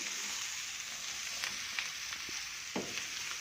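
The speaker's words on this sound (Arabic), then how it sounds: "بنقلب بقى المكونات كلها كده مع بعضها" Hot dog ingredients being stirred together in a hot frying pan, with a steady sizzle and a few light scrapes of a utensil against the pan, heard close and alone.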